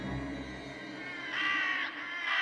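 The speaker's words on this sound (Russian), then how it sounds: "он понял, что давно уже не видит птиц, а только слышит их голоса" Harsh, raspy caws from crows, a couple of loud calls close by with a bright scratchy texture.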